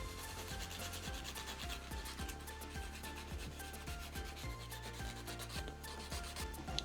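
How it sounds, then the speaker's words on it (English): A nail file is worked quickly across fingernails during a dip powder manicure, producing rapid, rhythmic scratchy strokes close to the microphone, continuous and unaccompanied by speech. "So we shall whiz through filing the other nails"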